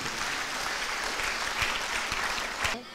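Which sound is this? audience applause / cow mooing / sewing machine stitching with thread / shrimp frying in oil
audience applause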